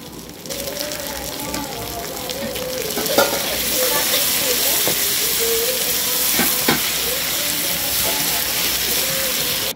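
Ginger garlic paste stirred and frying in a hot pan, a steady close sizzle with scraping stir strokes throughout, no talking.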